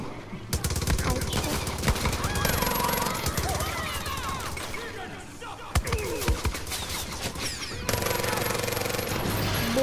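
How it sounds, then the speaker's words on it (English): Gunfire in Far Cry New Dawn: dense bursts of rapid automatic fire and repeated single shots in loud, choppy stretches, with game noise and a voice talking over it. "stop shooting at me"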